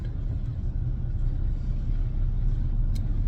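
Steady low engine rumble and road noise heard from inside a moving car, loud and continuous with no changes in pace.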